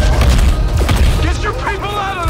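Explosions and booming blasts in the video game XCOM 2, heavy low thuds in the opening second and a rumbling roar beneath, with an in-game voice speaking over the top through the middle and end.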